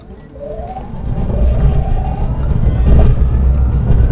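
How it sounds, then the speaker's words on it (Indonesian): A VinFast VF3 or Wuling Air EV electric car pulling away under acceleration, a steady low drive rumble building louder, with a faint rising whine running through it. "Ini kita mau tes akselerasi nih kayaknya. Sedikit ya, nyobain ya. Agak kita gas"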